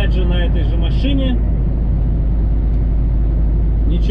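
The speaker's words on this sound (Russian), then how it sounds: "еду опять же на этой же машине" A car is heard from inside the cabin as it drives, with a steady, loud engine and road rumble throughout and a person talking over it at the start.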